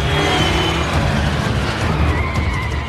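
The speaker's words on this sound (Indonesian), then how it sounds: "Davis tewas tertabrak mobil kontainer pengangkut paket JNT" A container parcel truck in a film scene roars loud and close, a dense, continuous rumble of engine and road noise with no break.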